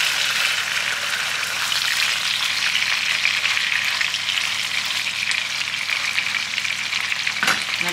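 Onion fries in a pan with a steady, close, hissing sizzle that holds even throughout, with a brief clink near the end.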